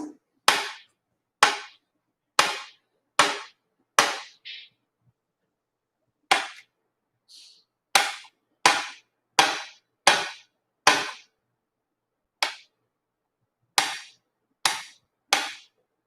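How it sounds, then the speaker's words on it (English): Knife chopping boiled eggs on a cutting board, a series of sharp, close knocks arriving in uneven bursts with short pauses between groups. "That sound you hear is me chopping up these eggs."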